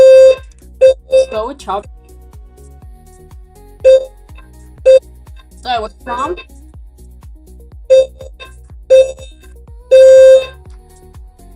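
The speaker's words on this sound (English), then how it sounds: "we have the fire alarm going off like non-stop this morning" A fire alarm chirps in short repeated beeps at irregular intervals, with one longer blast near the end, sounding over a person talking in an indoor room.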